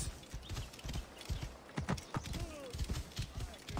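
Rhythmic clip-clop of horse hooves at a steady trot in Assassin's Creed Origins, with a couple of brief tonal game sound effects in between, fairly close and moderately loud.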